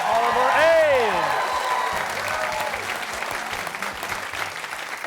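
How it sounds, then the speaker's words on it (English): An audience claps for a high school quiz team at a televised quiz show, a full burst of applause that swells early and slowly tapers, with a voice speaking over the clapping at the start. "Nice round of applause for Oliver Ames."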